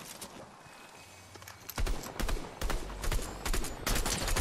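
Rapid gunfire bursts from a Fortnite match during a Duos Cash Cup, sharp repeated cracks in clusters after a quieter opening, fairly loud and dense, with no talk over them.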